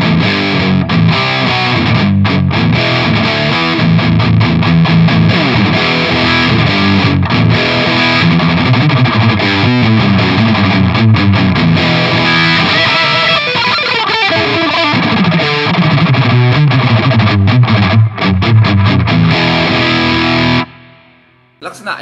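Electric guitar played through a T-Rex Engineering Vulture distortion pedal with low and fat boost, giving a loud, saturated tone with a deep, boomy bass, strummed steadily for about twenty seconds before stopping abruptly.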